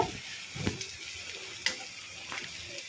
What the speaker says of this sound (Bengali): 5টা বাজে নুডলস রান্না করতেছি